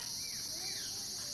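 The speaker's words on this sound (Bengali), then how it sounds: "নির্ঝুম, ঝিঝি পোকার ডাক" Crickets keep up a dense, steady high-pitched chirring in a deep, quiet jungle near a cremation-ground Kali temple, with no break across the short stretch.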